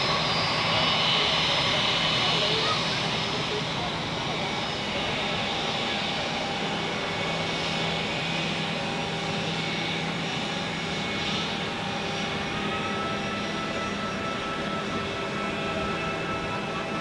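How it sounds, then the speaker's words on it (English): A Vueling Airbus A321 inbound from Barcelona, arriving at Zurich Airport, gives off a steady, loud jet roar that holds throughout with little change in strength. "It is Vueling A321 arriving from Barcelona."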